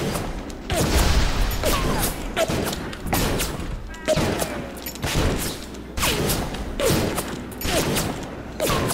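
Grenades explode repeatedly in the BioShock video game, a series of loud, close blasts at roughly one-second intervals, each with a sharp crack and short rumbling tail, with some talking over them.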